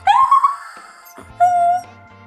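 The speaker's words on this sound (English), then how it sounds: "Dog." Dog giving a whining, whimpering cry, a loud rising whine followed by a second shorter steady whimper, heard alone and close in a children's learning animal sequence.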